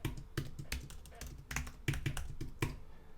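Someone types a username and password on a computer keyboard, with quick irregular clusters of close key clacks and taps, fairly quiet.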